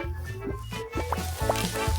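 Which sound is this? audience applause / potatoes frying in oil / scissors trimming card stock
potatoes frying in oil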